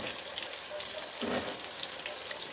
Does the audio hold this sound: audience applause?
no